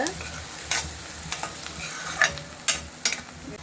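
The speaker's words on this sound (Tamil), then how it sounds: "வெங்காயம் இந்த மாதிரி நல்லா வதக்கிக்கோங்க." Onions sauté in a pan for an Andhra-style nethili fish gravy, a soft continuous sizzle broken by a few sharp scrapes and clinks of a spoon stirring, close up and without talk.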